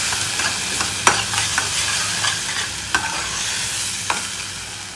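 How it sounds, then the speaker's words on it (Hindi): A spice masala of red chilli, black pepper and turmeric sizzles in a pan while a spoon stirs it, with a few sharp scraping knocks against the metal over the constant fry. "अब मसाला थोड़ा भून गया है,"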